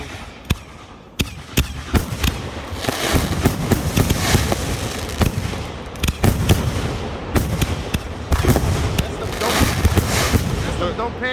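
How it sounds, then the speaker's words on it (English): Thriller DP peanut rack firework rockets fire in a rapid string of loud cracks and whooshes over a dense outdoor roar, with people talking nearby. "That's the rockets on the ground."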